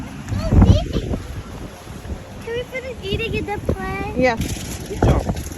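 Strong beach wind buffets the microphone with low rumbling gusts, while a voice speaks and a voice chatters over it.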